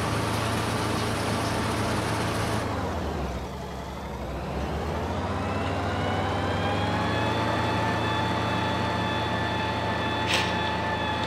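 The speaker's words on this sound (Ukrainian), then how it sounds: "на кнопочку Б в нас включається січкарня" A forage chopper switched on in Farming Simulator 19 gives a steady, loud machine drone that dips briefly and then settles into a constant hum with a rising whine.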